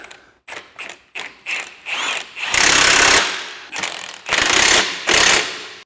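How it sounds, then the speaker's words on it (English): A ratchet wrench tightens suspension bolts while lifting a 2013-17 Subaru Crosstrek with an HRG Offroad 2-inch kit. It gives close, loud clicking bursts, several short strokes and then longer sustained ratcheting runs, with no talk. "I'm tightening all these bolts with weight on the suspension"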